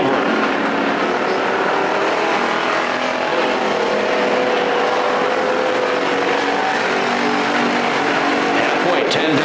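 Factory stock race cars at Perris Auto Speedway run side by side down the back straightaway, a steady, loud engine roar that holds throughout with an announcer talking over it.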